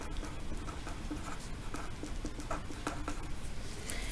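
Marker or chalk writing on a board while naming the ammonium cation, with scratchy strokes repeating in short bursts at close range over a faint room hum.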